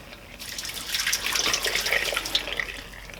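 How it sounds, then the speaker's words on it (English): Water is dumped through a metal screen catch while a tool chest is being restored, making a soft, steady splashing rush that swells and then trails off over a few seconds. "I will dump the water through this screen"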